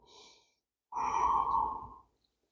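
A person in a chair yoga core session draws a soft breath, then lets out one long, loud exhale that fades after about a second; no talking.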